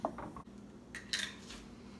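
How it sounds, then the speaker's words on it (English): Homemade tomato sauce is stirred in a pot, faint clinks and scrapes of a utensil against the metal come as a few brief taps over a quiet background. "I'm going to give it a good stir"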